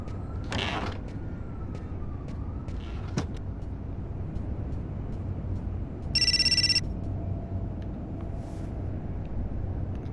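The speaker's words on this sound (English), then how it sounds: "Alright, I guess I better go get that phone." A telephone rings once in the video game Indigo Prophecy, a short bright electronic trill over a steady low room hum, with no one talking.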